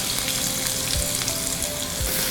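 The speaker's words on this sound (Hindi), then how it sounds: "यह प्याज को भूनने काफ़ी टाइम लगेगा" Chopped onions fry in hot oil with whole cumin seeds for a vegetable biryani. The sizzle is steady and close, with a few soft stirring knocks and no voice.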